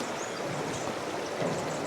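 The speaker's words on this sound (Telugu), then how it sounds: "అంటే వాటర్ సౌండ్ వస్తా." Clear mountain stream water rushes steadily through a valley near Sela Pass, a constant close broadband flow with no pauses or voices.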